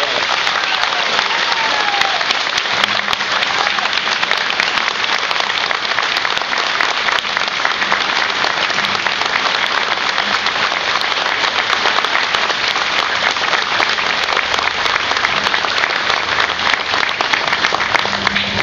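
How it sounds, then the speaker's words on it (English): Sustained audience applause at a ribbon cutting ceremony for a veterans' clinic in Franklin, steady and dense throughout with faint crowd murmur, no break in the clapping. "Please give Wayne a round of applause"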